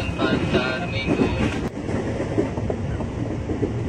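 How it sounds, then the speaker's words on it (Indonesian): A KRL commuter train bound for Bogor departs Pasar Minggu station, giving a steady, moderately loud rolling rumble with faint rattling and no voices. "Barusan ada lagi tuh KRL tujuan Bogor yang berangkat dari stasiun Pasar Minggu OTW ke Tanjung Barat"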